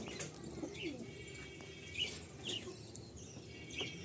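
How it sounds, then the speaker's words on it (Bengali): Pigeons in a Kolkata loft coo softly and flap their wings in a few brief bursts, fairly quiet and close against a faint background. "খুব সুন্দর পায়রা"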